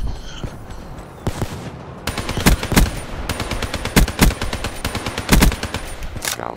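Video game gunfire from Black Ops 3: repeated loud bursts of rapid automatic shots, with heavier single blasts standing out, fired in quick succession over a steady background of game noise.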